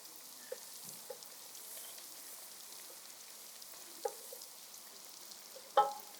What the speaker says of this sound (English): Just going to fry it for a bit.